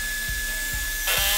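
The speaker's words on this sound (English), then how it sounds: "I used a 7-degree wedge to drill the holes in straight." Power drill boring angled pocket holes into wood for a saddle bar stool, a high, continuous whine with rhythmic low thumps and a harsher burst of cutting toward the end; no talk.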